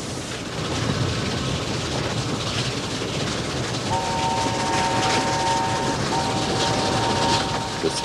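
A steam train runs steadily along the Settle and Carlisle railway on a hillside above Dent Dale. Its continuous rolling rumble and wheel noise are loud and close, with thin squealing tones joining partway through.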